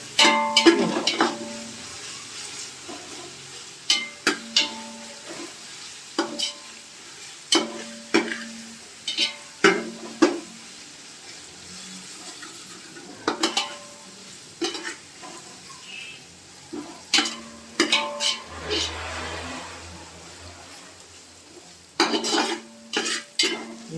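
Onions with ginger garlic paste fry and get stirred in a pan for a Rayalaseema chicken curry, with repeated scraping spoon strikes over a steady sizzle, close and moderately loud, no talking.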